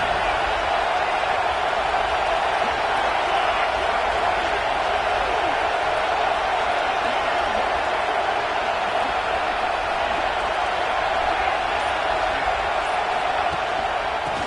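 A Texas vs Georgia college football stadium crowd keeps up a continuous, loud roar throughout, with a commentator talking over it.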